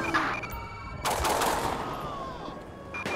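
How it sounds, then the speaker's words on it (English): Gunfire in GTA 5 during a police shootout, heard as bursts of shots over a busy game background, with a voice briefly under it. "Dispatch, shots fired."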